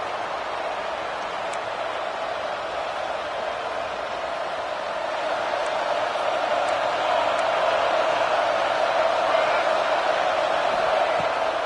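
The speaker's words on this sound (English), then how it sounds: "with this place rocking, the crowd forces a false start" A stadium crowd in a football video game roars in a dense, continuous wash of noise, swelling slightly louder midway and staying steady throughout.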